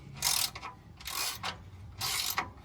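A bolt is tightened on a removable truck bed extension in three bursts of ratcheting, scraping metal, close and moderately loud with brief gaps between turns, and no voices.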